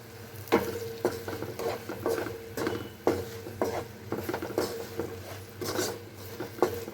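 Roasted powder of sesame, fenugreek, rock salt and mustard being stirred into a tamarind chili thokku in a pan, with repeated scraping strokes of a spoon over a low, continuous sizzle.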